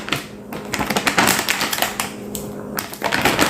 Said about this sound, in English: Let me get it opened up so we can all take a closer look at the brand new GunFlower holster. I guess I just rip it right here.